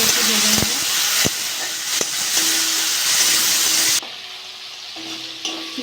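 Prawns fry in hot oil in a pan with a loud, dense sizzle and hiss, broken by occasional clicks of a utensil. Near the end the sizzle drops to a quieter level.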